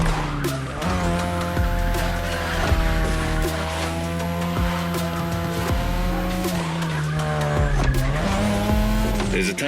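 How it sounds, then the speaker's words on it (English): A 2002 third-generation Mazda RX-7 with a rotary engine races in The Crew Motorfest, its loud, sustained engine note rising and falling through gear changes, with tire squeals and skids cutting in throughout. "Tonight, your ride is a 3rd Gen 2002 Mazda RX-7. Lightweight, compact, a sick rotary engine"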